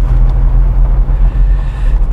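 A 1980 BMW M1 sports car engine accelerating, a loud, dense low rumble that holds steady and close for a couple of seconds with no voices over it.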